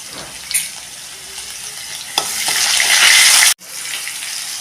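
Finely chopped onion frying in a pan with asafoetida and crushed garlic, giving a loud, steady sizzle up close that swells as the onion is stirred. The hiss breaks off for a moment and then continues, with no speech.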